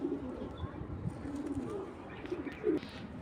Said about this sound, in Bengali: 23-এর কবুতর, 2023-এর একটা পেয়ার এটা